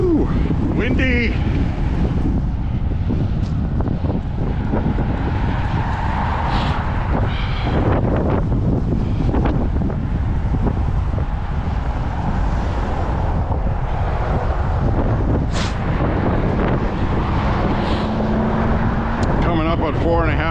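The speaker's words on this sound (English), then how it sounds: "Ooh, windy." Strong wind buffets the microphone on an outdoor walk in Lewiston, Maine, a loud continuous rumbling roar with gusting bursts, while a voice speaks briefly over it.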